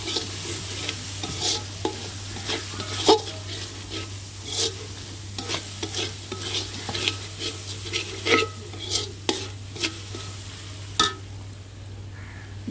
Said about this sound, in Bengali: এরপরে এর ভিতরে হলুদ, মরিচ, ধনিয়া, জিরার গুঁড়া দিয়ে ভালো করে কষিয়ে নিলাম।